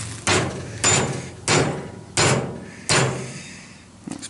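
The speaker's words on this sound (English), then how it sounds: "Good tap with the big hammer." Five heavy, evenly spaced blows from a big hammer striking a metal hook being forged for a Dutch oven lid lifter, each a loud, sharp ringing impact followed by a short decay, close and alone.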